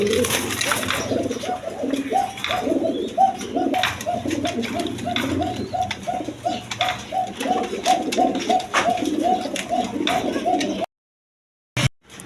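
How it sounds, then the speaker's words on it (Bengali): A pair of large Maltese pigeons coo nearby in repeated low, throaty rolling calls, one after another in a loose rhythm, with other bird sounds and some background voices, ending in a brief silence. "এক পেয়ার মাল্টেস কবুতর"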